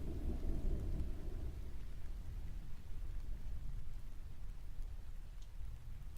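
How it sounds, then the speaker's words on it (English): Thunder rumbles low and long at the start, then fades into a steady wash of heavy rain on outdoor surfaces, loud and continuous with no talking. "Raining and thundering."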